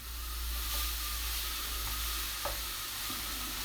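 Sausages and minced meat sizzle in a frying pan as they are stirred, a dense continuous hiss with a low steady hum underneath and a few faint clinks, close and without talking.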